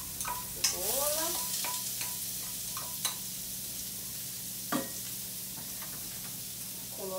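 Onion cooking in a small amount of olive oil in a pan with bacon fat for a bacon and gouda risotto, a steady soft sizzle with scattered stirring scrapes and clicks, close and fairly quiet.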